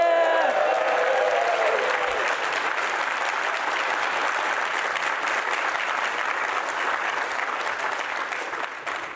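A conference audience at a JavaScript tech talk bursts into dense, loud applause that holds steady for about nine seconds, then eases off slightly at the end. A brief voice is heard at the very start.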